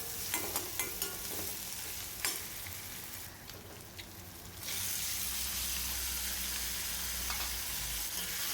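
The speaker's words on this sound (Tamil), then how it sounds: "வெங்காயம் தக்காளி நல்லா வதங்கின பிறகு நம்ம எடுத்து வச்ச சிக்கனை இதில் சேர்த்து நல்லா கலந்து விடுங்க." Chicken pieces stirred into sautéed onion and tomato in a hot pan for a Tamil chicken curry, giving a steady close sizzle with scraping spoon strokes, then a louder continuous frying hiss.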